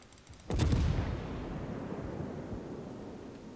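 Heavy warship gun salvo in World of Warships, one loud booming blast followed by a long rumbling decay that fades slowly.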